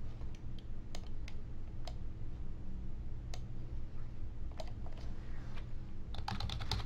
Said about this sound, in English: Type in an author's name